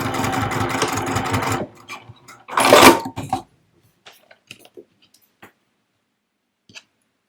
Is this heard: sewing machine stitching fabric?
yes